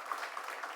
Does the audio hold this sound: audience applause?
yes